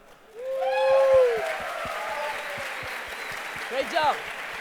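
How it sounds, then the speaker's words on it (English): A hackathon closing-ceremony audience claps in a sustained wash of applause, close and steady. A voice rises in a brief exclamation at the start, and a few whoops and cheers come near the end. "Come on, a big applause."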